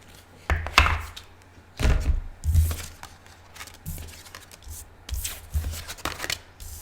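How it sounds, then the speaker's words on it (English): Tarot cards being shuffled by hand in quick bursts of riffling and soft slaps, several separate shuffles with short pauses between, close and fairly quiet. "if you don't like the shuffle, then please fast forward"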